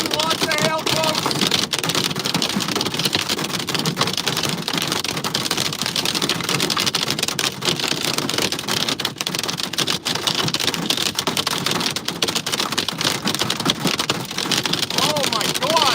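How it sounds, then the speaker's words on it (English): Heavy hail pelts the ground and surfaces in a Saskatchewan storm, a loud, dense, continuous rattling clatter throughout, with faint voices underneath. "we're getting lots of hail"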